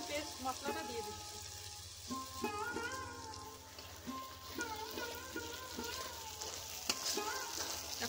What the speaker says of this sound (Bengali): এখন মশলাগুলো ভালো করে কষিয়ে নেব।